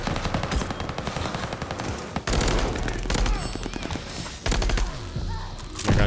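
Rapid bursts of automatic weapon fire in a Call of Duty Vanguard multiplayer match, loud and continuous with short pauses and sharp heavy shots, under a player's occasional speech.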